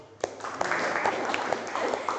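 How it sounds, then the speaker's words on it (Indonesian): Audience applause after a school teaching-practice session, a short burst of clapping at moderate level with a faint voice mixed in. "Tepuk tangan sekali lagi."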